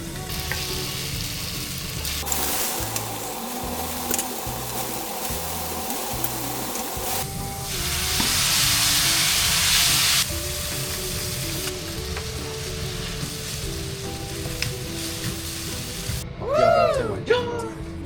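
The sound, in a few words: pan-frying food until golden on both sides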